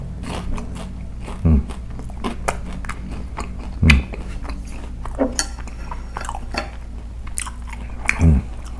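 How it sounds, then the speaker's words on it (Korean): Crispy delivered fried chicken is bitten and chewed up close, with several loud crunchy bites standing out over steady mouth sounds and light clinks of cutlery or dishes. "치킨을 먹는데 바삭바삭해요."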